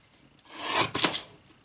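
A mini guillotine craft tool slices through material in one short, rasping cut that builds and then fades, close and fairly quiet with no talk.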